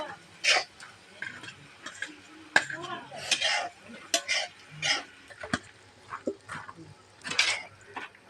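Maize-flour upma being tipped into a pan of sautéed onion, green chilli, cashews and raisins and stirred with a spoon, giving close, irregular scraping and clinking taps against the pan.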